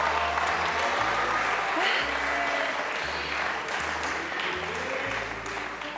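Clapping from a studio audience on an Italian TV game show rolls steadily for several seconds, a dense even patter that tapers slightly at the end.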